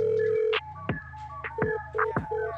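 Telephone tones sound in a song as a call goes unanswered, with a repeating series of short electronic beeps over a rhythmic beat of low thumps.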